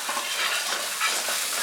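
Deseeded tomatoes fry on medium heat in a pan for a tawa pizza, a close, steady bright sizzle with soft stirring scrapes and no talk.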